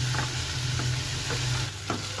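Tender bathua greens fry in a pan with a steady sizzle, broken by stirring scrapes roughly every half second. A low, constant hum runs underneath, and no one speaks.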